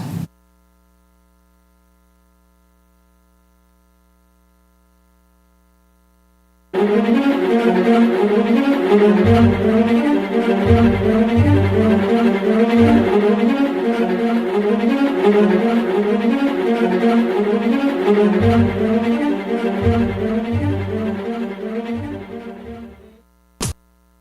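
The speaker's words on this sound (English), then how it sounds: "I'm going to put the white noise on." A steady wash of white noise plays in a courtroom during a recess at a trafficking trial, starting abruptly after several seconds of near silence, holding loud and even with a faint electrical hum, then fading out near the end.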